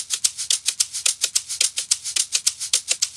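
Two shakers, one amapiano-style and one afrobeat-style, play together at 108 BPM in a tight, steady pattern of bright, crisp rhythmic shakes, close and clear with no voices.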